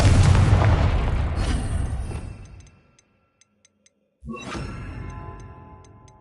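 A Confringo spell explosion in the Hogwarts Legacy video game bursts loudly at the start, rumbles and fades over a few seconds, then a small tick and a second sharp blast hit before a lingering decay.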